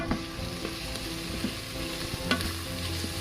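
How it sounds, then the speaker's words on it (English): Garlic sautéing in an Instant Pot Ultra, a moderate steady sizzle with a few distinct spoon clicks and scrapes as it is stirred, close and without speech. "now I'm adding the garlic. Give it a little stir."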